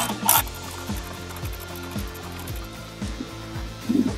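A ratchet turns a 3/8 inch Allen socket during a brake job on a 1980 Chevrolet C10, giving close, steady ratcheting clicks about twice a second with a sharper clack near the start and a scrape at the end.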